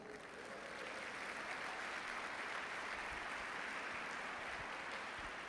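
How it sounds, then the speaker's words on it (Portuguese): A church congregation applauds steadily throughout, a dense, even wash of clapping that holds at a constant level without voices rising above it. "Você quer aplaudir Jesus?"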